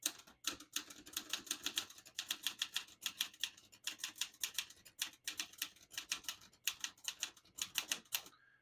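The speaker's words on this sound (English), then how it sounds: "I'll type a sentence in red on the next line and switch from black to red" A 1967 Olivetti Lettera 32 portable typewriter typing a line in red ink, with rapid, crisp keystrikes clattering in quick bursts and brief pauses, close and alone.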